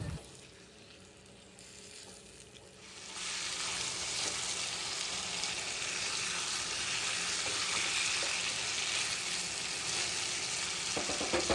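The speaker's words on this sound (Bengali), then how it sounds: "মশলা কষানো হয়ে গেলে ম্যারিনেট করা চিকেন ছিল সেটা এর মধ্যে দিয়ে দিচ্ছি, দিয়ে মাংসটা কিছুক্ষণ কষাতে থাকবো।" Marinated chicken hitting fried masala in a pan for Kolkata-style chicken kosha: after a quiet start, a strong steady sizzle swells and holds, close and fairly loud, with faint stirring scrapes and no voices.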